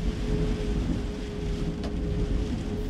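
Steady, heavy mountain wind roaring across the microphone without a break aboard a sailboat in the Northwest Passage, a dense rumbling noise that swells slightly in places.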